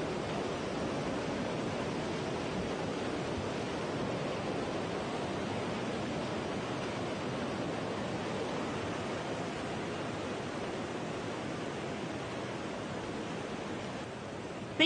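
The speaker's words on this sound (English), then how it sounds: "Black water rushes into coastal towns" Tsunami floodwater rushes into coastal towns in a dense, continuous roar of churning water, steady and loud from start to finish, with no voices.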